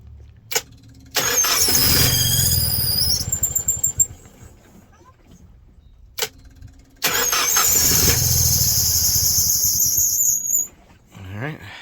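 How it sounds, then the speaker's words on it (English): A boat's engine is cranked over to build oil pressure during winterization, with two long, loud bursts of close starter grinding and whine, separated by a pause and broken by short clicks. "I just want to turn this over a little bit and get the oil pressurized"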